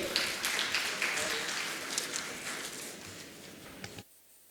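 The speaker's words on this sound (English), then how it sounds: "A round of applause for our panelists and moderator." Audience applause for conference panelists and a moderator at an energy-sector event: dense, steady clapping from a crowd that fills the room, fading slightly and then cutting off sharply near the end.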